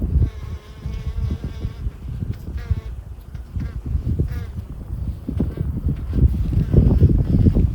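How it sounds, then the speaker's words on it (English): A dense, steady buzz of many honeybees at an open hive close by, droning continuously with rising and falling intensity. "Whew, there's a bunch of bees in here."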